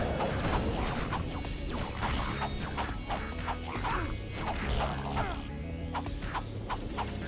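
A wrench melee combo in the video game Ratchet: Deadlocked, with a rapid, continuous string of metallic whacks, clanks and swishes over busy mechanical game sounds.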